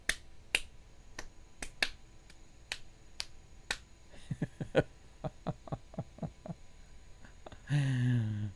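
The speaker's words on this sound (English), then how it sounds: "And like 5 people in the stands are clapping." Sparse clapping from a handful of fans in the stands at a baseball game between the Astros and Braves, a few isolated sharp claps giving way to a quicker run of claps, then a short burst of tonal sound at the end.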